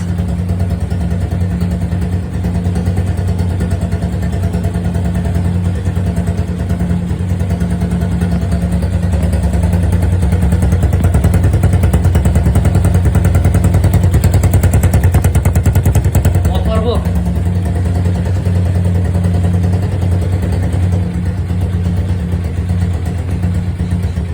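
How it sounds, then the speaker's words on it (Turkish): A modified motorcycle with a new exhaust idling from a cold start, giving a loud, steady, low rumbling throb that continues throughout. "Şu an soğuk motor. Soğuk başlatma. Cold start."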